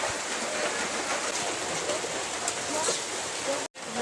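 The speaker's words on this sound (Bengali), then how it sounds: "টপ টপ করে বৃষ্টি পড়ছে, তার সঙ্গে বাতাস আছে।" Rain falls with wind in a steady, fairly quiet wash of noise that continues evenly, with a brief dropout near the end.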